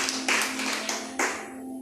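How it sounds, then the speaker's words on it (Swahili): A church congregation claps together in several bursts of applause during a fellowship service, the clapping loud and crowded, rising and fading with no talk over it. "Pigia Yesu makofi mazuri."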